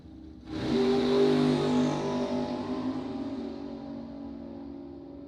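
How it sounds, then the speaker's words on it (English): A front-engine dragster launches down a bracket drag strip: a loud engine roar erupts suddenly, holds at full volume, then recedes gradually into the distance as the car pulls away. "in his front engine dragster"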